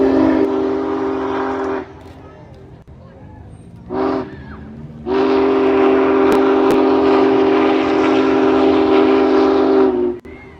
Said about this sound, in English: We're just going to find this big old choo-choo.